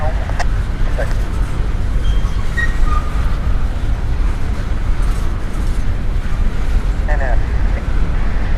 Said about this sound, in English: I got trains coming up over the bridge.